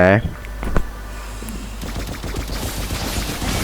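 Kimmy fires rapidly in the Mobile Legends game, a dense stream of quick repeated gunshot bursts building through the second half, with a voice talking over it at the start.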